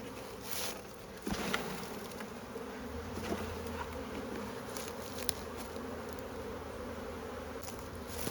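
A dense, steady buzzing of many honey bees fills the air close by as they are moved and shaken between hive boxes, with a few soft knocks and taps from handling the frames.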